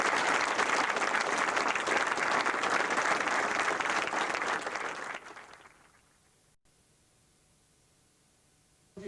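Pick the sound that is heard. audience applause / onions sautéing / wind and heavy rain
audience applause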